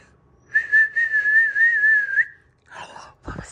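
A person whistles a single sustained, gently wavering tone for nearly two seconds, close and clear, followed by brief indistinct vocal sounds.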